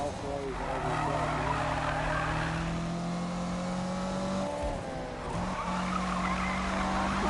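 A Ferrari drifting in Need for Speed 2015, its tires squealing in a long sustained screech over a steady engine drone, with a voice talking throughout.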